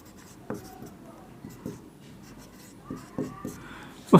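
A pen writes an equation on paper during a class 10 maths lesson, producing short scratchy strokes and taps in irregular bursts, quiet and close.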